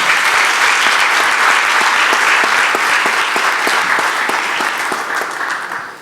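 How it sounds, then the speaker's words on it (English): A forum audience gives a sustained round of applause for Kosovo's Prime Minister Albin Kurti, dense and even clapping that stays loud and then tapers slightly at the end. "Join me with a round of applause."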